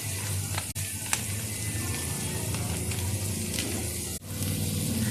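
Ginger garlic paste and spices such as turmeric, garam masala and chili powder frying in a pan, a steady close sizzle running throughout with two brief dips and no talking.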